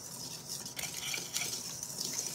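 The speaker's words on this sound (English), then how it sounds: "we're gonna whisk this together" A whisk beats white chocolate pudding mix and other cookie dough ingredients in a bowl, a steady close scraping and clinking that runs continuously with no talking.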